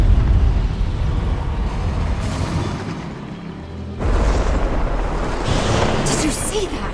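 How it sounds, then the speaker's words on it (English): Magical bloodstone explosion in Guild Wars 2, a broad rumbling boom layered over dense game ambience, with a second loud burst surging in around the midpoint and sustained roaring noise throughout. "That bloodstone explosion seemed to trigger some sort of magical echo."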